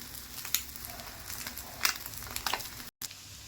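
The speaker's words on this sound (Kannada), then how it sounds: "ಒಂದು 5 ನಿಮಿಷ ರೋಸ್ಟ್ ಮಾಡೋಕ್ಕೆ ಬಿಟ್ಬಿಡ್ಬೇಕು. ನೋಡಿ ಈ ಥರ ಸೌಂಡ್ ಬರುತ್ತೆ, ಟಪ ಟಪ ಅಂತ" Eggs roasting in a hot pan give a close, steady crackling sizzle with sharp spattering pops scattered throughout and a brief dropout near the end.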